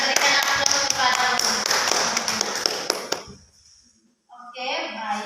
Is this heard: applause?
yes